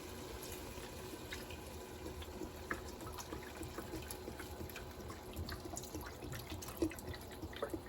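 A faint, steady trickle of liquid pouring into a pot, with small drips and splashes over a continuous low background.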